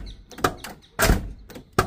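Door of a 1995 Ford F1000 pickup with a six-cylinder gasoline engine, shutting in a series of close, solid thunks: one short knock, a heavier slam, then a final clunk, with no talking.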